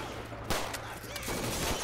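Gunfire in Left 4 Dead 2, a few close, loud shots in quick succession over a constant game ambience, with no talk.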